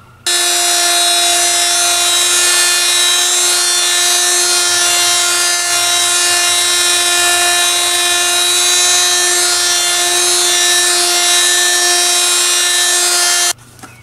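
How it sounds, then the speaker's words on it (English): A multifunctional oscillating power tool runs steadily at a constant high-pitched buzzing whine, loud and close, for about twelve seconds before switching off. "It is called a multifunctional power tool."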